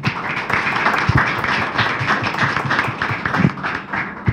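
An audience at a book presentation gives a round of applause, a dense, steady patter of many clapping hands filling the room for a few seconds with no voices over it.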